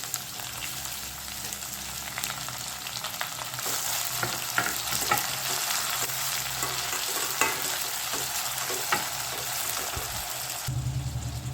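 Onion and tomato sizzle steadily in hot tempering oil for a mixed dal, a dense continuous frying hiss with occasional stirring clicks, close and loud throughout with no voices.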